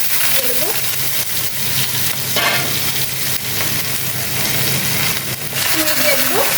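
Chopped onion and whole spices fry in oil for a broiler chicken curry, giving a loud, constant sizzle with intermittent stirring scrapes; faint brief voices appear near the start and end.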